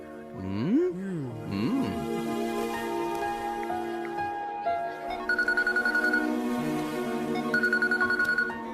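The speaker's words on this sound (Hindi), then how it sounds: "हे, ऐश्वर्या का फोन है।" A telephone rings in a dubbed South Indian movie scene, its repeated electronic ringtone bursts sounding over background music and tones, with a speaking voice near the start.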